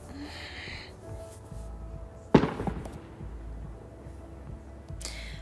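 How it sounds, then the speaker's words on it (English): A single sharp firework bang goes off in a residential neighbourhood, a loud crack with a brief rumbling tail, heard outdoors over a low steady background hum. "Someone is lighting off fireworks in my neighborhood."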